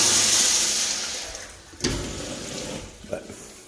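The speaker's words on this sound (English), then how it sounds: "some of these toilets will flush" A toilet flushing in a public restroom, a rushing wash of water that swells and then fades over a few seconds, with a short gurgle and splash near the end.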